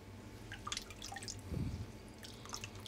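Cooked green vegetables are drained and pressed in a spider strainer, giving faint scattered drips and trickles of water with a brief soft squelch midway, quiet and close.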